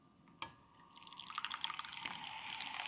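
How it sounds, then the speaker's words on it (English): Hot water pouring from a vintage electric vaporizer with no spout, a sharp clink followed by a steady, close splashing trickle that builds and carries on without talk. "it's going to be difficult for me to pour this"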